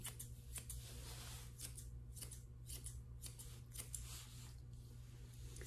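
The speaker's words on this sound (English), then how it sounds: "These are V3 thinning shears." Masuta V3 thinning shears snip through a Yorkie's coat in a quick, irregular run of soft close-up cuts over a steady low hum, faint and without talk.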